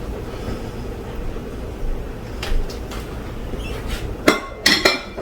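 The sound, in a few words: spatula moving wafers through banana pudding in dish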